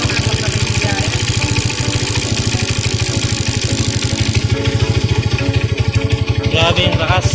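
A Tmx CG 125 motorcycle with a leaking exhaust, converted to CDI ignition, runs at a steady idle with a fast, even chugging pulse, loud and close, while a voice speaks faintly over it.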